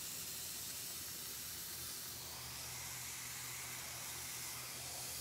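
An airbrush sprays red and pink paint on a client's piece, giving a steady, close hiss of air and atomised paint that continues without a break and has no talk over it.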